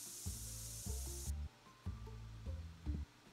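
A spray bottle in the TCG Card Shop Simulator game gives a short hissing burst at the start, then cuts off as quiet clicky game sounds continue faintly in the background.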